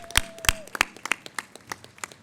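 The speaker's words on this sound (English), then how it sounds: "Let's give a round of applause again one more time for those talented students." Sparse applause from a small crowd at an outdoor Memorial Day ceremony, a dozen or so distinct claps and taps spaced irregularly over about two seconds, fairly quiet, with a brief faint tone near the start.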